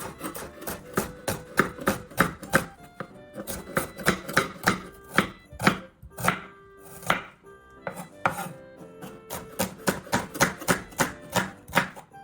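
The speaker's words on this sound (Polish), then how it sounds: "Ja potrzebuję do tego 2 cebule, kroję je w piórka." A knife slices two onions into thin strips on a board, giving quick rhythmic chops in bursts with short pauses between runs, close and crisp with no talking.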